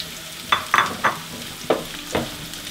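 Vegetables, including zucchini, being stirred in a sauté pan, giving a handful of short scraping, sizzling bursts spaced irregularly over low background hiss, fairly close with no talking.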